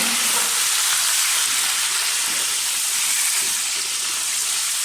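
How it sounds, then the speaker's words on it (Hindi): Pieces of meat for chicken korma fry in a hot pan, giving a loud, continuous sizzle and hiss that runs steadily throughout with no voices. "फ्राई करने के साथ ही हम इसमें एंटर करेंगे, अपने गोश्त को डाल देंगे। इसको हमने थोड़ा सा करना है फ्राई।"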